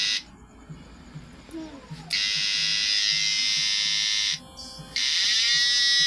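Sparks arc from a homemade DIY PDC output during a test, giving a loud, harsh electrical buzz in two long sustained bursts with a short break between them, after a quieter opening with faint murmuring.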